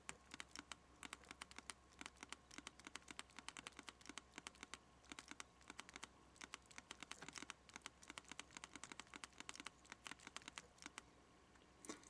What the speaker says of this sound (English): So I will type a quick test message.